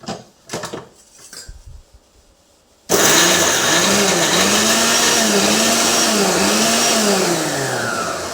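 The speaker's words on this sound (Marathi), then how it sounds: "तर चला मग आता ठेचा आपण मिक्सरला वाटून घेऊया" Electric mixer grinder blending green chilli thecha, starting abruptly after a few quiet clinks of utensils and then roaring loudly and continuously with a wavering motor pitch until the end.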